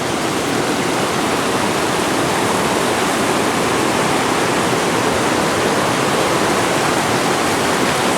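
Flood water rushing down a swollen stream at a camp, a loud, constant broadband roar of churning water close by with no break.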